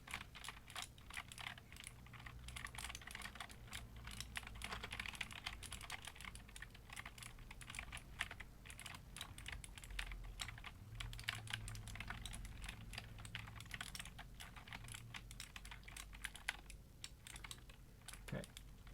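Steady, fast clatter of keys on a FEKER Mechanist 01 60% keyboard, picked up from roughly head height, with quick irregular clicks running continuously and fairly quietly.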